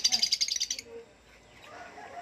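African lovebirds in a mini aviary give a quick run of loud, close, high chirps for under a second, then fall to quiet, faint background sounds.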